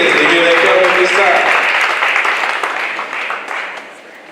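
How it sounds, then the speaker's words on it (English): An audience at the annual Essence of Fatherhood awards ceremony gives a round of applause for award recipients and contest winners. Steady, full clapping from a crowd holds for a few seconds, then gradually dies away. "let's give our Mary Yates recipients and contest winners another round of applause"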